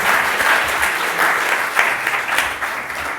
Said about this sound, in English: can we have a round of applause again for our speakers and chair?